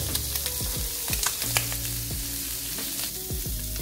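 Food sizzles steadily in a pan on low heat while it is stirred, giving a constant close frying hiss with light scraping and clinks from the utensil.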